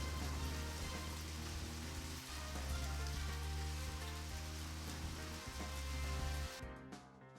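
Steady rain hiss in the video game Deadly Premonition, running loud and constant under droning music with no talk, then cutting off sharply near the end.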